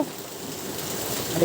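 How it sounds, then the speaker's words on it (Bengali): Heavy rain pours down over a town in Meherpur, a steady, dense hiss of falling water with no voices and no breaks. "আল্লাহর রহমতের বৃষ্টি বর্ষিত হচ্ছে"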